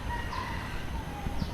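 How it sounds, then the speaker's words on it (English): Chickens roaming free outdoors in Singapore give a few faint clucks and thin calls over steady background noise from the surroundings. "I really like this about Singapore, that you can see those chickens roaming around"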